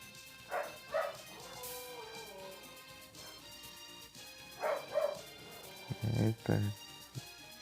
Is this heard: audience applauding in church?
no